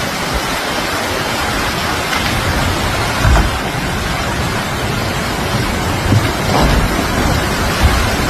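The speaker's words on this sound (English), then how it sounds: "Then came the torrential rain and strong winds" Heavy, torrential rain with strong winds during a storm in Spain, a dense steady roar of downpour and gusts with a few brief louder surges, no voices.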